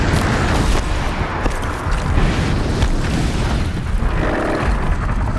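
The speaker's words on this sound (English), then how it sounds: "Ooh, wow, that exploded." A machine explodes in Horizon Zero Dawn, heard as a loud, dense burst of booming, crackling blasts that stays heavy and continuous across the whole stretch.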